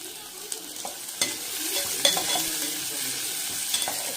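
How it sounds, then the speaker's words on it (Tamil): Sliced onions and curry leaves fry in an oiled pan while being stirred, a soft steady sizzle with occasional scrapes and clinks of the spoon, close and moderately quiet. "வெங்காயம் போட்டுடலாம். கருவேப்பிலையும் போட்டுடலாம்."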